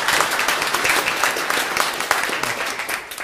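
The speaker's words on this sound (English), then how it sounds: "Let's give Joey a round of applause." An audience applauds after a technical talk on GraphX graph analytics on Spark, a steady dense wash of clapping from a crowd that holds for several seconds without fading.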